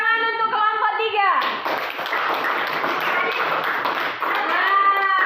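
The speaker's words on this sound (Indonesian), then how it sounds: "Kasih tepuk tangan untuk kelompok 3." Children in a classroom clap for a student group after a presentation. The applause is a dense, steady patter of many hands, lasting a few seconds, with young voices chattering before and after it.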